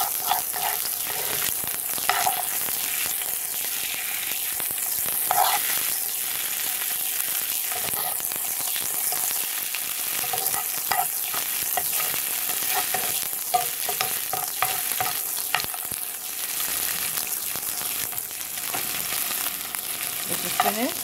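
Sardines and scallion fry Guyanese style in a pan, with a steady loud sizzle and repeated scraping stirs throughout, close and continuous.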